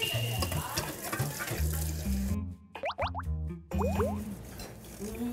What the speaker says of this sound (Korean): 왜 갑자기 또 설거지를 들어갔어?